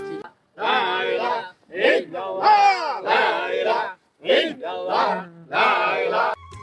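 A crowd at a Bishwa Ijtema Islamic gathering of Talime Islam Manikganj Darbar chants Allah's dhikr in loud, rhythmic, drawn-out phrases separated by brief pauses.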